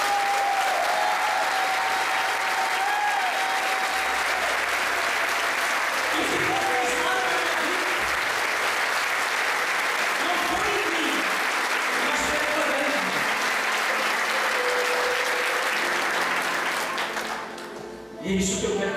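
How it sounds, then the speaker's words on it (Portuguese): A church congregation applauds during a worship service in a long, loud, sustained round of clapping with a few raised voices mixed in, fading out at the very end. "Queria que você aplaudisse o Senhor comigo."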